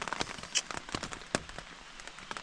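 Steady rain patters on a hard surface at a trekking camp in Ariège, with scattered sharper drops landing close by and no voices.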